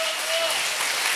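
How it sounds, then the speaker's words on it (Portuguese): Congregation at a church worship service applauding, a brief, dense burst of clapping heard at close range. "Vamos aplaudir a Jesus."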